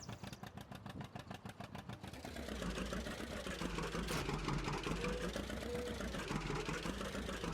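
A 20 series tractor's engine in Farming Simulator 19 cranks with a rapid rhythmic chug, then catches and settles into a steady, droning idle.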